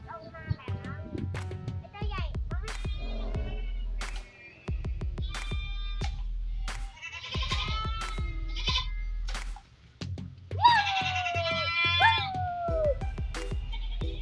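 Goats bleat repeatedly at a goat pen outdoors, with loud, wavering calls overlapping one another amid nearby rustling and someone talking.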